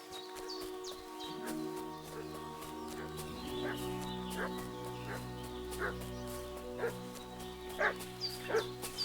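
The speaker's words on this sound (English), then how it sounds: "What's that dog making such a fuss about?" Dog barking repeatedly at middling distance in the medieval Bohemian countryside of the video game Kingdom Come: Deliverance 2, set over a steady low ambient drone and game music, with chicken or rooster calls mixed in.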